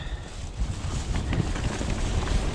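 Gusty wind buffets the microphone outdoors on the Twrch Trail in South Wales during rain, a steady rough rumble with brief surges and no talk.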